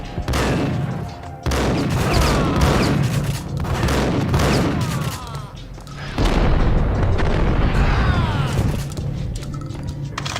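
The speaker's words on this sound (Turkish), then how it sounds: "Lan ne kim vuruyor oğlum oradan?" Gunfire in the shooter game Max Payne: bursts of loud, close shots and booming blasts come in repeated volleys, with a voice talking over the shooting.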